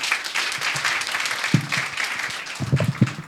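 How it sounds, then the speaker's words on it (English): A room full of people at a young women's dialogue event applauds, a steady patter of clapping with a few louder claps near the end. "You can give them a round of applause."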